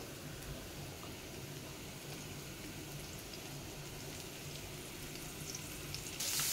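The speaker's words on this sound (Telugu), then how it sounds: "ఇప్పుడు మనం కట్ చేసి పెట్టుకున్నాం కదా ఎగ్స్, ఇవి ఒక్కొక్కటి ఇందులో వేసేద్దాం." Eggs dropped one by one into hot oil frying with a steady, dense sizzle that holds even throughout, rising slightly louder at the very end.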